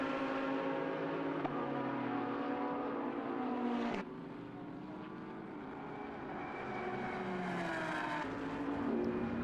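Race cars at SUGO during a Japan Cup race roar past on track, with a continuous loud, droning engine note whose pitch shifts as the cars pass, joined by a second passing car near the end.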